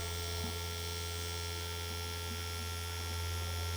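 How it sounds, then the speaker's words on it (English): A Dragonhawk X8 wireless tattoo machine runs at medium speed, giving a steady, continuous electric hum with a faint buzzing whine. It is close and unchanging, with no talk. "now I'm gonna power this machine on in a low, a medium and a high frequency, so you can have an idea of the noise and vibration"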